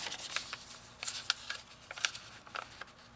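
A paper sewing pattern being folded and handled: soft crinkles, light taps and scattered rustles at close range, quiet and irregular, with no talking.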